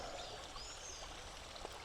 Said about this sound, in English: Now this is a cute little area. Cute little stream.